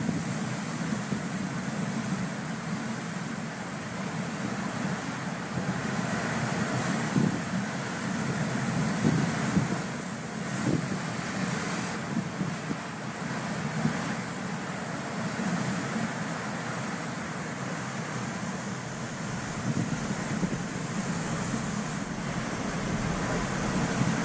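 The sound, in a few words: strong northwest wind, force 8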